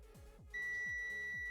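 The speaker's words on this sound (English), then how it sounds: "we can hear a beep" A multimeter continuity test on a Grand Caravan alternator and battery: a single steady electronic beep starts abruptly and holds continuously, loud and close, after a brief moment of low background noise.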